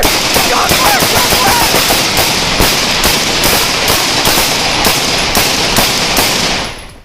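Rapid, loud gunfire during a police shootout with a suspect, a dense continuous barrage of sharp cracking shots with echoes that fills the whole stretch and then cuts off abruptly at the end.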